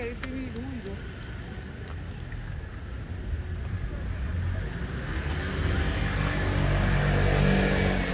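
Motor scooters buzz along a street in Rapallo, Italy, their engines rising and swelling as they pass close by, over a steady rush of traffic and outdoor noise, with voices faintly in the background.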